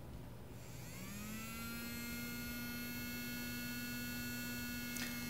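Small DC motor driven by an L293D driver and Arduino, spinning up with a rising whine that settles into a steady, faint tonal hum, with a brief click near the end.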